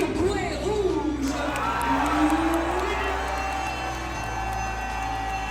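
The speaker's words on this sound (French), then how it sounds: "veuillez donner une bonne main d'applaudissement pour votre vainqueur par décision partagée" A boxing gala crowd cheers and whoops for the winner of a semifinal bout, a loud, dense wash of shouting voices filling a large hall, with one rising yell standing out above the steady roar.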